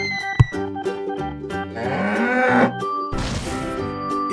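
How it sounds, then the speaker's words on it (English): A cow moos loudly and close by: a deep, drawn-out bellow that rises into a strained, rasping cry and ends in a rougher, breathy burst, with no one talking. "A cow says moo."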